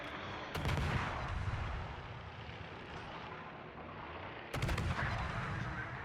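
Secondary guns of the battleship Massachusetts firing in World of Warships, with heavy booming salvos near the start and again toward the end over a continuous rumbling battle din.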